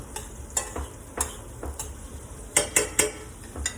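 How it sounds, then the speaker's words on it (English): Tomatoes with capers, anchovy and chili warm in a pan, giving a soft sizzle under repeated sharp clinks and scrapes of a utensil stirring against the metal, close and fairly loud. "So basically you're just warming the tomatoes."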